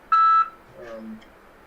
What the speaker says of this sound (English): now my phone's going off, so I'm going to shut that off